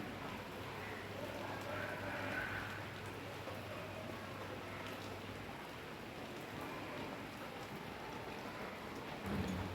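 Rain falls steadily in a village setting, a soft, continuous patter heard from indoors or under cover, faint and even throughout, with a brief low hum early on.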